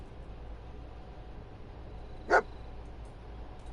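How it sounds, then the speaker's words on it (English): A single short dog bark from a video game on a PS4, a modded Fallout-style companion dog, ringing out once mid-clip over a steady low background hum. "What the hell are you barking at?"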